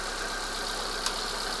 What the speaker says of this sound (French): Donc là, on entend le moteur tourne.